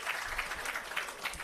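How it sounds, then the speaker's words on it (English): Audience applause at the commissioning ceremony for the Parnassus Irrigation System, a steady wash of many hands clapping, fairly even and sustained throughout. "Please give them all a round of applause."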